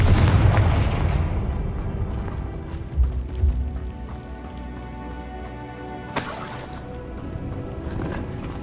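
Confringo blasting spell explosions in the Hogwarts Legacy video game: a loud low boom opens the clip and dies into rumble, two sharper thumps land near the middle, and a bright burst comes near the end, over steady background game noise.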